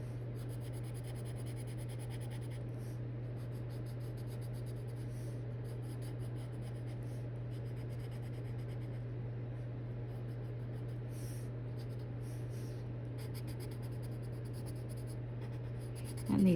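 Soft Evazar colored pencils rub on paper while a satin dress drawing is colored, giving a quiet, continuous scratchy stroking with small pauses, close and faint over a low steady hum.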